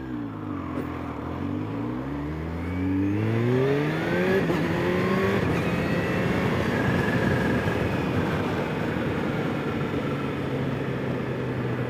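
Video game cars drive past with engines revving and pitch sweeping up and down, several motors overlapping into a steady, loud roar that builds after the first few seconds.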